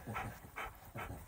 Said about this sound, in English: So you're going to growl at me when I clean your paws?